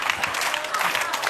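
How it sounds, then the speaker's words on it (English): A short burst of steady crowd applause, many hands clapping at once with no clear gaps. "hold the applause"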